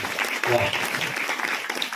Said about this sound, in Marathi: एकदा आमच्या माता माऊल्यांकरता टाळ्या होऊन जाऊ दे